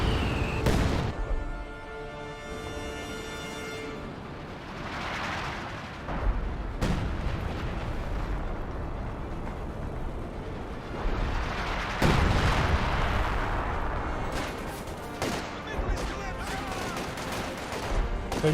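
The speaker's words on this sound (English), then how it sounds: "Another heavy mortar barrage there." A heavy mortar barrage in the World War II strategy game Company of Heroes 2, with repeated booming impacts and crackling small-arms fire layered over a continuous battlefield rumble, with faint voices mixed in.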